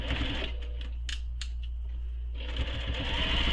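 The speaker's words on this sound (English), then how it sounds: "So you're just top stitching the open end." A sewing machine top-stitches the open edge of a handmade backpack, its steady mechanical whir running close and continuous, with a brief pause mid-seam before the stitching resumes.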